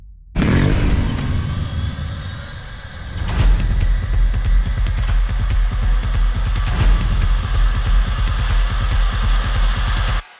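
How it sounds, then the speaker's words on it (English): A loud motorcycle engine runs steadily for several seconds with a rising high-pitched whine layered over the rumble, surging once partway through. "there's quite a long bit that one would imagine is probably the sound of the compressor"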